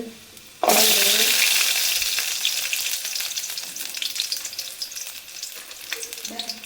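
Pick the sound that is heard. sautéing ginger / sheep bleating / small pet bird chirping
sautéing ginger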